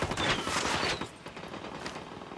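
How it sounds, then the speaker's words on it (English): Automatic gunfire from the video game Ghost Recon Wildlands, a loud dense burst of rapid shots up front that eases into quieter scattered fire toward the end. "I'm opening fire."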